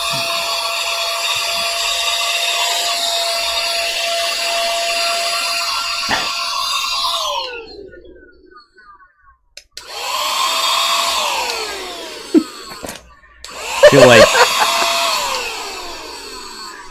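Vacuum cleaner running on carpet and picking up crumbs, a loud steady whine that cuts off partway, then restarts in two shorter bursts with brief gaps and a soft voice between.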